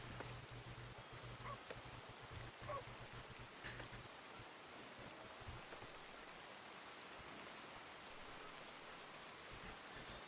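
Steady rain hissing down in the WildRP game world, an even, moderately loud wash of drops with no pauses, holding at the same level throughout.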